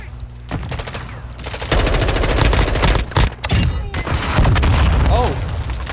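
A grenade blast followed by rapid automatic gunfire in a video game, loud thudding booms and dense bursts of shots with brief shouting voices between them.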